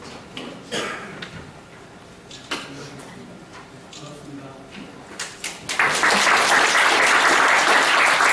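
At a national leadership conference, scattered claps and talk give way to a sustained, full burst of audience applause welcoming the keynote speaker.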